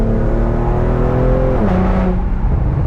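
Tuned Infiniti G37 sedan cruising on a back road, its steady engine drone carrying a gritty exhaust rasp that shifts pitch midway as the revs change, loud and continuous with no voices.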